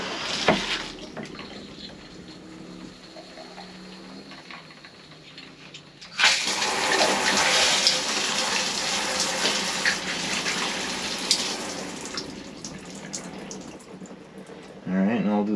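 Water gushes steadily through the shower head of a Jayco camper being winterized, a broad continuous spray that starts loud and close after a quieter stretch and runs on without a break.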